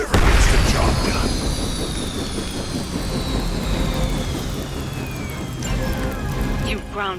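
Heavy roaring rumble and whooshing descending whine as a helicopter is brought down in the Marvel's Midnight Suns video game, loud and sustained with fading tonal sweeps and game effects, voices speaking over it.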